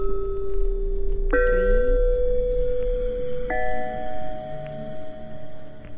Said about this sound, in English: Gong.